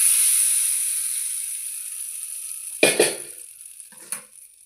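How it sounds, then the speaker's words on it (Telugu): A tempering of spices hits hot oil for ginger chutney, opening with a fading hiss, then a couple of sharp crackling bursts and one more brief sizzle before it dies down. "ఇగో పోపు కూడా వేసేస్తున్నా."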